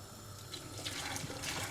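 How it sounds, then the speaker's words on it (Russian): Water drains out of a cooking pot and splashes into a sink during borscht broth preparation. The pour is soft and steady, with gurgles and splashes, and no one talks. "Сливаем воду, промываем хорошенько кастрюлю и заливаем новой чистой холодной водой."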